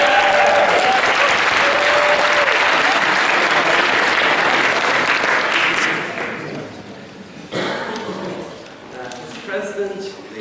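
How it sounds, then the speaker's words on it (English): An audience at a Trinity College Philosophical Society debate gives dense, loud applause that runs steadily for several seconds and then drops away as a speaker begins addressing the room. "if you refuse these rights, you will surely be met with a round of applause"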